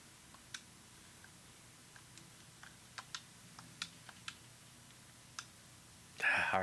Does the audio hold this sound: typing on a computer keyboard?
yes